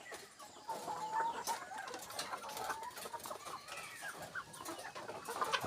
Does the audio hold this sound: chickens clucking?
yes